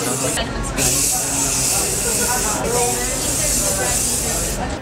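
Axe body spray hisses from an aerosol can in long, steady bursts separated by brief pauses, close and fairly loud, while people talk in the background.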